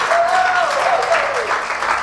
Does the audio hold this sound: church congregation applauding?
yes